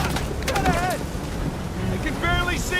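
A motorboat starting up in the game Uncharted 4, engine and rushing water and wind noise steady throughout, with voices talking over it.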